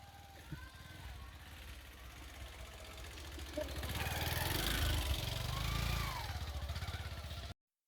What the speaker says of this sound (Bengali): বাইক প্র্যাকটিস করতেছে